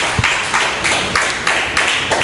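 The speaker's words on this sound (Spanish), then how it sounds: "Denle un aplauso fuerte al Señor Dios Todopoderoso" A church congregation claps together during a sermon, producing a steady rhythmic beat of sharp hand claps repeating about twice a second.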